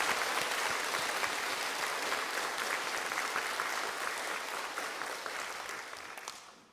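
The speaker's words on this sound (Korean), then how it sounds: "하나님 앞에 영광의 박수 한번 합시다" A church congregation claps together in worship, a dense, steady wash of many hands sustained for several seconds before fading slightly at the end, with no voices over it.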